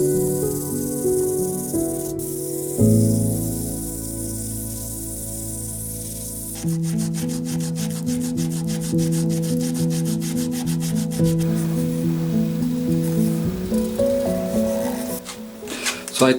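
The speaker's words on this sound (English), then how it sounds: "Let's sand the outside off." Sandpaper rubbing against the outside of a spinning woodturning piece for a candy stand, with a continuous close hiss over the lathe's steady hum, changing pitch partway through and growing rougher near the end.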